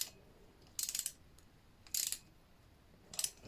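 A steering part on a homemade mulet is tightened gently by hand, producing three short bursts of quiet ratcheting clicks separated by pauses, close and faint.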